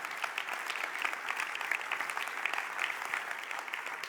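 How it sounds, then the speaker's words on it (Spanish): Steady applause from a church congregation during a sermon, dense clapping sustained throughout at an even level, with no voices over it. "Sí, dale un aplauso a Él."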